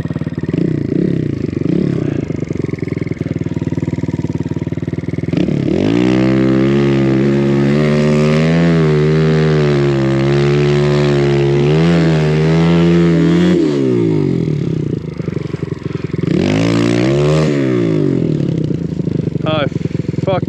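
An enduro motorcycle rides through rough terrain, its engine droning steadily and then revving hard in a long rising and falling pull, with a second surge near the end, loud and close throughout.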